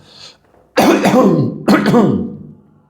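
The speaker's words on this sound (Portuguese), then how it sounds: "estou tossindo um pouquinho aqui" A person coughs twice in loud, close bursts, the second following about a second after the first.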